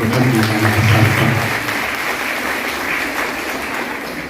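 Loud applause for the lecturers at a women's arts and commerce college event, many hands clapping together, strongest at the start and then easing into a steady, slightly softer ovation.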